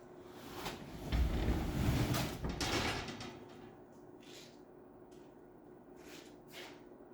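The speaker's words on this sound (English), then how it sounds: "let me see if I can get this door open without making a mess of it" A door being opened: a rough, grinding scrape and rumble swells for a couple of seconds and then fades, followed by a few faint knocks against a low background hum.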